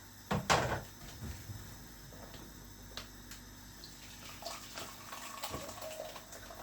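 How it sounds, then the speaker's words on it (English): Blended coconut with water is strained into a bowl in a home kitchen, giving a sudden knock, then soft pouring and sloshing with a few light clatters, with no talking. "I've gone ahead and I've blended the coconut, so let us get it strained at the moment."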